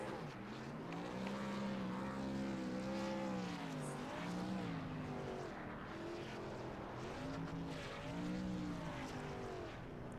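Race cars doing tyre burnouts at a racing event, engines revving hard with rising and falling tonal whine layered over a continuous loud rasp, sustained throughout with no voices.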